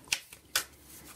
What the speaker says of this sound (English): I'm just going to be shuffling the cards off the screen today